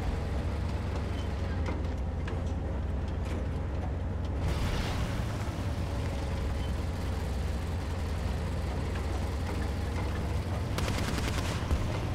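Repeated cannon shots from a 37 mm tank gun in a vehicle combat video game, firing over a steady loud engine rumble, with sharp bursts near 4.5 and 11 seconds.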